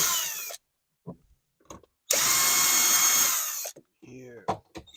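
A power drill whirs in two bursts, a short one at the start and a longer, louder run in the middle, while removing screws from a Honda Element interior, with quiet clicks and brief handling noises between.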